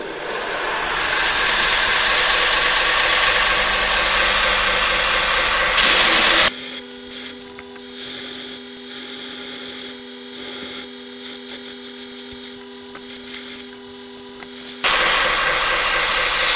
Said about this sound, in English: I'm just going to use the grinder to shape the whole thing.